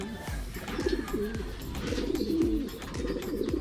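Pigeons cooing close by in repeated soft throaty calls, several overlapping coos in a steady rhythm over low background noise.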